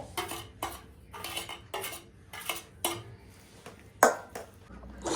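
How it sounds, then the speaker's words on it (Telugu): Jujube fruit paste worked with a small pestle, producing a series of soft, irregular knocks and scrapes against a bowl, roughly every half second, fairly quiet and close with no speech. "నా దగ్గర చిన్న రోకలు ఉన్నది కదా అందుకని నేను ఇట్లాగా మొత్తం ఒకసారి ఇట్లా కలిపేసుకుంటున్నాను"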